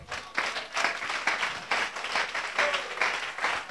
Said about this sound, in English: I need some more clapping.